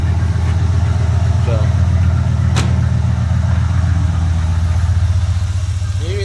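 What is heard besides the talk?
1985 Chevy Camaro IROC engine running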